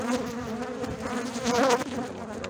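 Honeybees in a hive opened for a pre-winter inspection, buzzing steadily and loud at close range, a dense continuous hum that swells briefly midway, with no talk.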